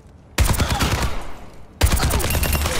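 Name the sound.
gunfire shooting training bots in the Overwatch 2 video game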